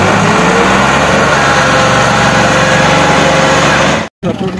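A loud, steady tractor trolley engine drone runs throughout with a low rumbling pulse, then cuts out abruptly near the end before briefly resuming.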